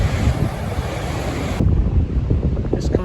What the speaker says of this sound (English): Pretty dramatic place though, gets battered by the ocean.